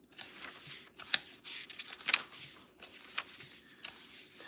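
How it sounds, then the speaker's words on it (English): Pages of a Ralph Waldo Emerson poetry book turning, soft papery rustles with a few crisper flicks spaced about a second apart, close and quiet with no talking. "I like the sound of pages turning."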